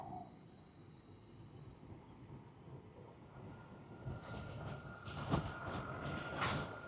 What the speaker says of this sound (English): Now that's the train going by.